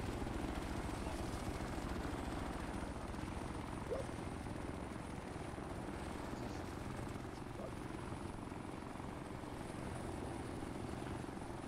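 A helicopter's rotor thumps steadily and loudly in a military video game, its dense low chop continuing without a break, close and unchanging throughout, with no voices over it.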